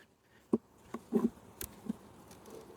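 Honey bees in a hive give off a faint, low hum with a few scattered buzzy bursts and light taps, close and quiet, with no voices.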